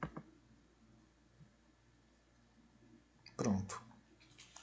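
A single faint mouse click lands on a web page button, a short, soft tick over quiet room tone, followed by a couple of lighter taps.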